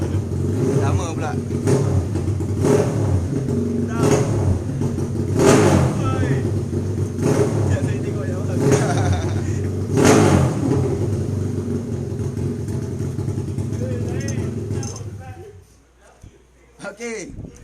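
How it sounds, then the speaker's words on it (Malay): A motorcycle engine revs repeatedly nearby with loud rising bursts, a speaking voice running underneath, before the engine cuts off and the noise drops away. "kita ada bunyi bising kat luar, ada motor sampai"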